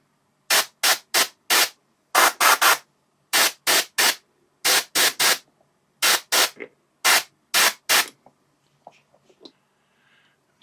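Airbrush spraying paint onto a miniature during blending, heard as a steady run of short hissing bursts, about a dozen near-even puffs close to the mic, followed by faint quiet ticks.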